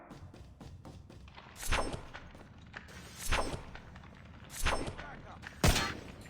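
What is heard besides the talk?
KILO assault rifle gunfire from a video game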